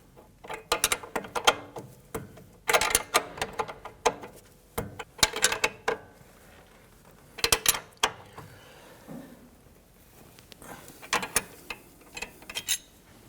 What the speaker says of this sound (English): We're going to go ahead and use our 18mm wrench